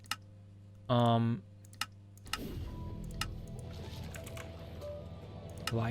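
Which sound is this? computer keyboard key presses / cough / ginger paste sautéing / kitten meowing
computer keyboard key presses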